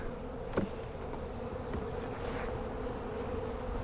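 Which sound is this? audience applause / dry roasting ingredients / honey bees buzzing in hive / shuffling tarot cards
honey bees buzzing in hive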